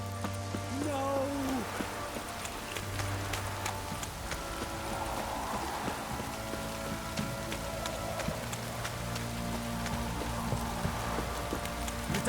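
Steady rain patters across a surface throughout, with a faint low hum and soft tonal sounds drifting in the background, in the video game The Witcher 3.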